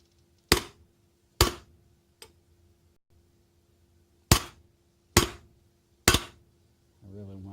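A sledgehammer strikes a hot poured silver square with six sharp, ringing metallic blows at uneven intervals, close and loud, each decaying quickly, followed by a low rumbling hum at the end.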